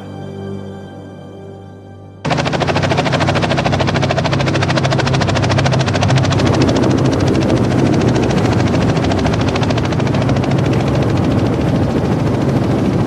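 A helicopter roars loudly and continuously over Denali, its rotor chopping in a fast steady rhythm after a brief quieter lead-in.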